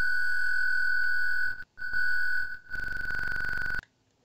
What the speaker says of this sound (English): So this reverb makes a noise regardless.